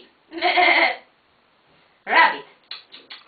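A sheep bleats in two loud, close bursts separated by a pause, with a few shorter trailing cries at the end. The bleats may come from a toy or a person imitating them.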